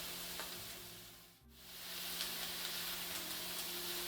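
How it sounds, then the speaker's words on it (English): Bell peppers sizzle in a pan for ciambotta, a steady close frying hiss that dips briefly, as if stirred or lifted, then returns full, with no talk. "we're going to wait until the peppers cook a little bit, and then we will add the other vegetables"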